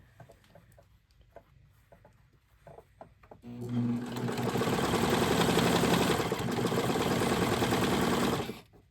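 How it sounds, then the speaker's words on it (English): A sewing machine stitches doll clothes in one steady, fairly loud run of several seconds, after a few soft handling clicks and taps at the start. "I always use the sewing machine too"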